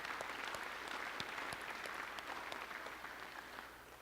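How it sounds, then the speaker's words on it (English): A church congregation applauding in a hand clap of praise during a morning service, a dense, fairly distant wash of clapping that holds steady and tapers slightly. "Let's give the Lord a hand clap of praise this morning."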